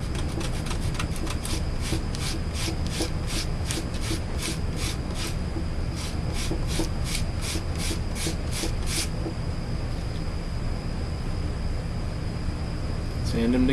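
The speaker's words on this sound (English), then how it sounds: "I've cut all of them at 45, and now I'm going to sand them." Wooden model rocket pieces cut at 45 degrees are sanded by hand in steady back-and-forth strokes, a rhythmic rasping that runs for about nine seconds before trailing off, close and fairly loud over a low background hum.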